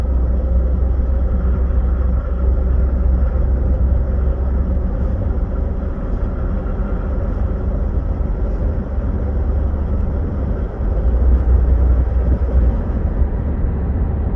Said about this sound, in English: it's kind of like a detonation rattle